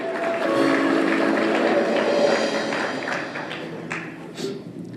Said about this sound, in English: Another round of applause for Mr. Willie Norwood.